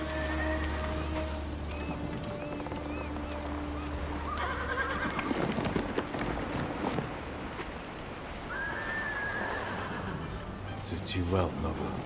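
A horse whinnies amid clopping hooves and patter like rain, over a background music bed, with someone speaking partway through, in the video game Ghost of Tsushima: Iki Island.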